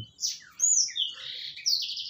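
A bird calls overhead in a continuous run of high, bright chirps and warbled phrases, fairly close and clear with no talk, during hand-feeding of young long-tailed shrikes.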